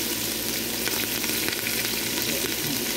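Mutton head curry with crushed garlic, ginger and curry leaves sizzles and fries steadily in a pan while being stirred, a loud continuous crackle with soft scraping throughout.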